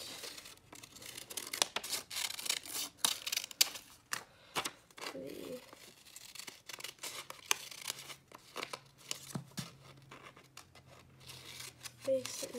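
Close, irregular snipping and rustling as scissors cut through paper for a dragon puppet, with crinkling paper handled between cuts in a quiet room.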